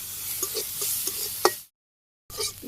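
Leafy greens frying in oil in a village kitchen, a close, steady sizzle with stirring scrapes, cut by a brief gap of silence before the sizzling resumes.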